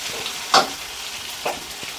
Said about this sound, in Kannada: ಎಲ್ಲನೂ ಹಾಕ್ಕೊಂಡು ಒಂದು 2 ನಿಮಿಷ ಫ್ರೈ ಮಾಡ್ಕೊಳ್ತೀನಿ.